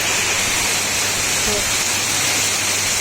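Heavy rain pours down in a dense, continuous roar that fills the whole clip at a steady, loud level.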